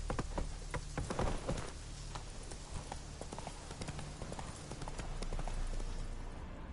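Roach the horse galloping in The Witcher 3, rapid rhythmic hoofbeats close up over a dense outdoor backdrop that sounds like rain.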